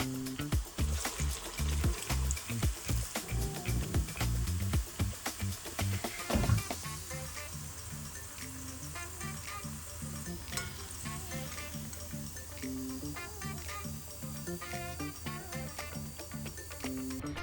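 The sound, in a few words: medu vada frying in hot oil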